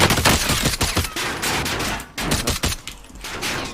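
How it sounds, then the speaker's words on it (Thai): Gunfire rings out in Call of Duty Warzone, loud rapid bursts of automatic shots in quick succession with one short pause, close and dense. "ผมจะยิงรถ"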